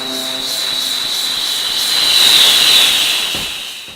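A looping explosion particle effect in a game-engine demo scene, heard as a steady hissing roar with a bright whistle that swells louder around the middle and then fades, as if the source passes close by with Doppler shift.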